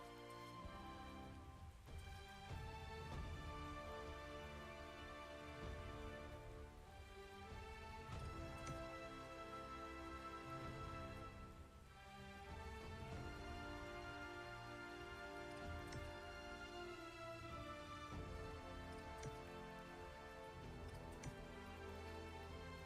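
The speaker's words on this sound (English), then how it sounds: "as it starts to rain" Rain falls steadily in ARK: Survival Ascended, a soft continuous patter of drops running through the whole stretch under faint in-game ambience, with no talk over it.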